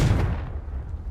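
A Confringo fire spell blast in Hogwarts Legacy, a loud booming burst with heavy low rumble that trails off over about a second, with no voices.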